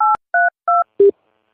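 Four short electronic keypad tones in quick succession, loud and clear, each a clipped beep, the last one lower in pitch.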